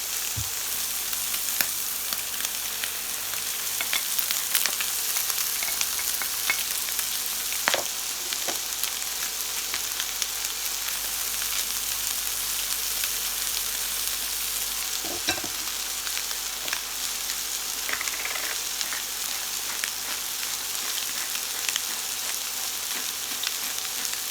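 Vegetables hit a hot pan that has been searing meat, for a Korean kimchi pie, giving a loud, steady hiss and crackle of frying with occasional scrapes and knocks of stirring, close and continuous with no talk.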